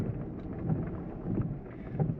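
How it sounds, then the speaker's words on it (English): Light rain falling outdoors on a sheep pasture, a soft, continuous low patter mixed with gusty wind rumble on the microphone, fairly faint with no talking. "it's raining and I don't want to get the dog wet"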